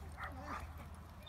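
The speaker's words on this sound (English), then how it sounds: "That dog sounded like a" Dog barking at a dog park: a couple of short, gruff barks near the start and middle, fairly close, over a steady low rumble of outdoor background noise.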